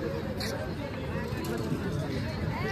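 A crowd waits at a busy Manchurian food stall during Diwali, with dense close chatter and many overlapping voices running the whole time.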